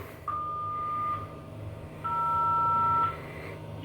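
An elevator emergency phone rings out over the line in two long steady electronic tones with a pause between them, fairly close over a low constant hum, with no talk.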